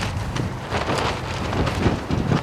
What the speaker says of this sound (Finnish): Ihan naurettava tuuli tuolta järveltä,